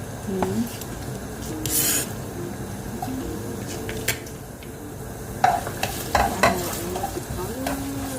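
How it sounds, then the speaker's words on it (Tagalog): Onions go into hot cooking oil for a homemade carbonara, giving a steady crackling sizzle with stirring and scraping noises and occasional utensil clinks, close by and moderately loud. "pag mainit na yung mantika, we are going to put our onion"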